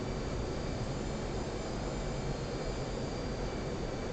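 An F/A-18 jet in the DCS flight simulator lines up on a runway approach, its engine a steady, loud, broad roar with a faint high whine and no change over the few seconds.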